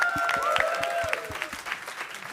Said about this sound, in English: And also give a big round of applause for our third place winners.